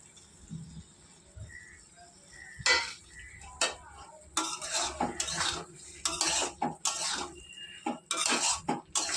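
Prawns cooking in a pan with cumin powder, stirred with a utensil: irregular bursts of scraping and clinking strokes, close and fairly loud, separated by quieter gaps with a faint low sizzle beneath.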